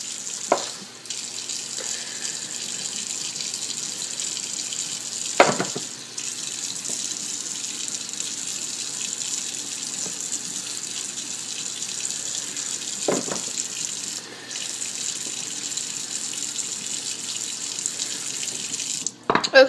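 Steady running water from a sink tap while paint brushes are rinsed, a continuous hiss under a few brief clunks and knocks, no voices.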